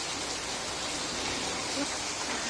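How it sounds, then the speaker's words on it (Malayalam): Steady, heavy rain falls as a dense, even hiss without pause, with no talking over it. "നല്ല മഴ ഇങ്ങനെ കൂടി കുറഞ്ഞൊക്കെ നിൽക്കുകയാണ്"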